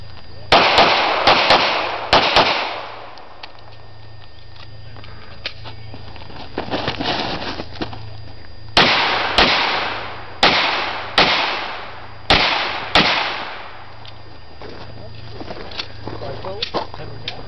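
Pistol shots crack during an IDPA shooting stage, starting as quick bursts and later coming as single evenly spaced loud shots with echoing tails outdoors. Voices are heard between the shots.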